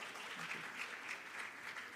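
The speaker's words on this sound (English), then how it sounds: "Please, a round of applause," Soft, steady applause from a roundtable discussion audience, a brief wash of clapping heard faintly at a distance.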